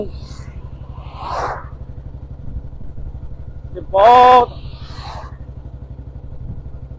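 A Royal Enfield Bullet motorcycle rides along with a steady low engine thump throughout, close and continuous, while someone talks over it and a brief louder tonal burst cuts in midway.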